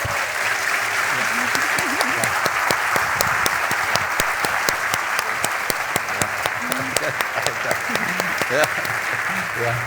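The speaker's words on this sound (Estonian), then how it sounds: "Suur aplaus, Ain Hanschmidt!" Loud, sustained audience applause for speaker Ain Hanschmidt, with sharp individual claps standing out over the dense roar and voices murmuring underneath.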